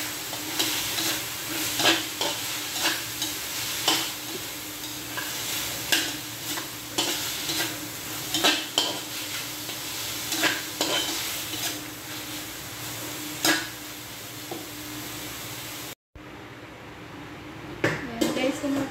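Lomi noodle soup with mushrooms and squid balls boils and sizzles in a pan, a constant crackling hiss broken by repeated clinks and scrapes of stirring, close up.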